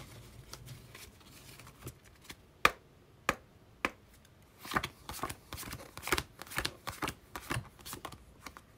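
Tarot cards are shuffled and riffled in a quiet room, a string of soft crisp flicks and snaps with short pauses between bursts.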